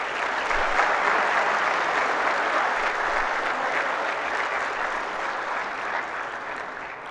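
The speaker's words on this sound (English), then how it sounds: "ladies and gentlemen, please clap." Sustained audience applause fills a conference hall at an economics society's annual general meeting and conference inaugural session, steady and dense throughout with a slight fade near the end.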